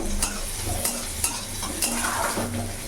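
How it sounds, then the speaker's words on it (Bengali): Garlic and onion fry together in hot oil as a tempering for greens: a soft, close sizzle with regular scraping clicks of a spoon stirring against the pan. "এখানে আমি রসুন আর পেঁয়াজ দিয়ে দিলাম একসাথে"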